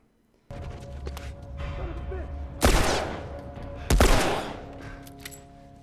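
Gunfire in The Last of Us Remastered on PS4: two loud, sharp broadband shots land about a second apart over a steady game soundscape.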